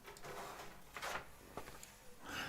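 A drawer slides open nearby in a quiet room. Faint scrapes and soft knocks come in short bursts, with a low background hiss between them.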